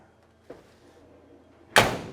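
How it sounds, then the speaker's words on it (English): Door of a 1956 Chevrolet 3100 Stepside pickup truck closing: a small latch click, then about a second later one solid, firm shut with a short metallic decay, close and clear, with no talking. "Doors shut nice, no issues whatsoever"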